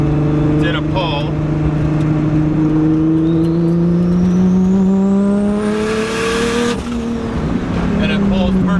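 A car with an RB engine accelerates hard down a road, its engine note rising steadily in pitch as it pulls through the gear, loud and close, before easing off. Someone talks over it.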